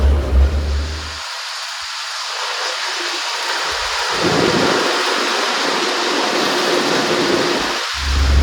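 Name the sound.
rain starting during bus journey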